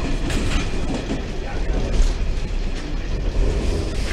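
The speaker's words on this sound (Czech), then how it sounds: "Přijíždíme do Mělníka na osobním vlaku číslo 9530." A Czech passenger train rolls into Mělník station, its loud, steady rumble and rattling wheels on rails filling the whole stretch up close, with no talk.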